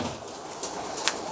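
Faint pigeon cooing from a loft of prized pigeons in Ras Al Khaimah, UAE, heard low over a hushed background with a couple of brief soft bursts.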